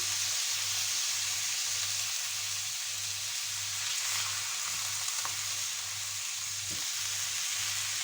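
A frozen salmon fillet fries in a pan as it is flipped, a loud steady sizzle lasting throughout with a faint low pulsing hum underneath and a few small clicks.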